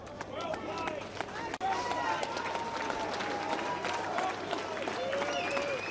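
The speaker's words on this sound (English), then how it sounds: "One round of applause from the Motueka crowd." Spectators at a school rugby match in Motueka applauding during a substitution, scattered outdoor clapping from a sideline crowd, heard under a commentator's voice and other nearby talk.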